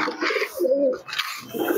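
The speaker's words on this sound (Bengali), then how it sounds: "একদম দেশি গিরিবাজ লাইনের কবুতর আছে।" Desi Giribaj-line pigeons coo close by in low, throaty rolling phrases, joined by a few brighter chirps.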